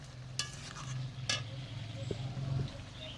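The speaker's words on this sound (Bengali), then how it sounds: "এবার ভেজে রাখা মাছগুলো দিয়ে দেব" Pieces of fried fish are added to a gourd curry in a pan, with soft sizzling, a couple of sharp clinks and stirring scrapes, close by without speech.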